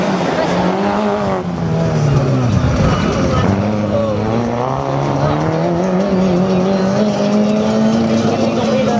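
A Citroën Saxo VTS race car runs a slalom course, its engine revving up and down through gear changes with tires squealing. A commentator talks over the noise throughout.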